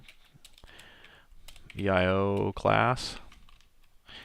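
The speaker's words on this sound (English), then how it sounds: "as I was typing this" Light clicking on a computer keyboard comes in faint, scattered taps, briefly covered by a spoken word in the middle.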